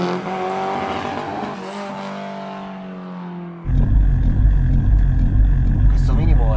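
A Fiat 600 fitted with a 250 hp Punto Abarth engine idles, its loud, steady rumble cutting in partway through after a few seconds of other sound, with people talking around it.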